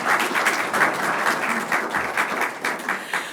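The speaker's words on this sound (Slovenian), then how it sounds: "Ja, seveda, lahko si zaploskate." An audience at a welcome ceremony claps in sustained, even applause that fills the room without pause.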